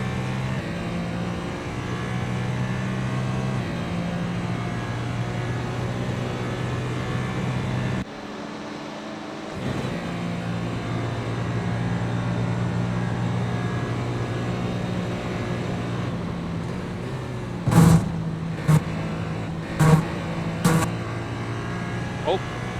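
Ferrari LMH endurance race car engine in iRacing at the Daytona 24, a steady droning hum with harmonic whine, a brief drop midway, then sharp loud clicks near the end.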